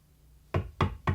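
Three firm knocks on a door, evenly spaced and close by, with no voices.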